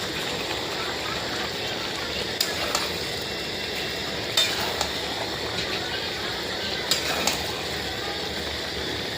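Meat cooking in a pot in a home kitchen, a steady broadband sizzle running throughout with a few sharp metallic clinks of a spoon stirring against the pot, mid-distance and unbroken.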